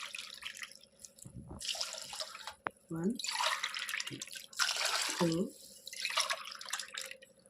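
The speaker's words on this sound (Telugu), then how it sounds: "మూడు గ్లాసులు వాటర్ నేను వేసుకుంటున్నాను" Water pours and splashes into a pot for homemade coconut rice, a steady close rush that swells in two waves while a voice speaks briefly between them.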